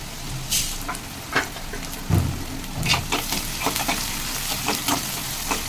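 Onions with curry leaves sauté in a pan for a chicken liver dish, a steady close sizzle broken by repeated scraping stirs and clatter of a spoon.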